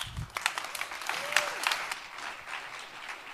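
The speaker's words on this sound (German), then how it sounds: "Einen herzlichen Applaus." At a youth hackathon presentation in Berlin, a moderate crowd claps steadily and warmly for a few seconds, with a faint voice briefly audible under the applause.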